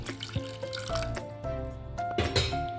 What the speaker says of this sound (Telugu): కొద్దిగా వాటర్ వేసుకోవాలి